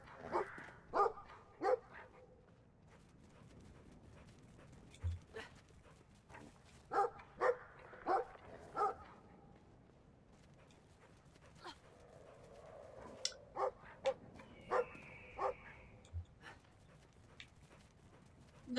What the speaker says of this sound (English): That dog is giant and scary.